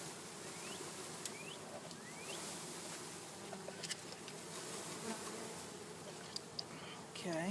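Honeybees from a package being installed buzz in a thick, continuous drone, with individual insects whining past now and then and occasional soft thumps, fairly quiet overall.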